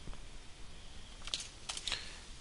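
A few soft clicks of keys on a computer keyboard while coding, sparse and faint against a quiet room hum, with a small cluster of taps near the end.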